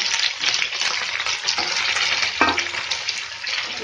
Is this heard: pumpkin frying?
yes